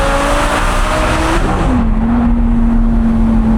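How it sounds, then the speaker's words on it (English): A loud car exhaust roars close by, the engine note shifting as it accelerates hard through a gear change. "when you put the windows open where it's like the exhaust gets louder"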